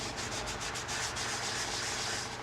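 A beech live-edge bowl is sanded with 600-grit sandpaper, giving a continuous close, loud rubbing hiss with faint rhythmic strokes and no voices.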